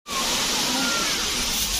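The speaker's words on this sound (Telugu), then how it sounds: "ఇది ఓవరాల్ వ్యూ అన్నమాట కట్టికా వాటర్ ఫాల్స్." Katiki waterfalls near Araku pour in a steady, full roar of rushing water that fills the whole stretch, close and continuous without pause.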